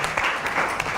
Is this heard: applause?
yes